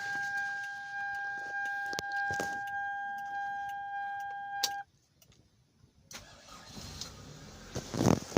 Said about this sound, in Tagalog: Try natin kung aandar siya. Sana umandar.